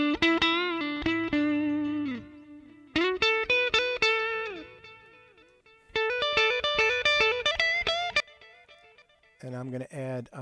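Synthesized melodic phrases with a soft low-pass tone trail off into repeating delay echoes, each note followed by several fading repeats from added feedback, with a light wash of reverb; bursts of notes separated by brief gaps.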